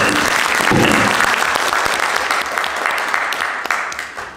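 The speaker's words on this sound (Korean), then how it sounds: "제가 박수 한번 드리겠습니다." Audience applause fills a lecture hall, a steady patter of many hands clapping at close range that holds up evenly throughout and then begins to thin slightly toward the end.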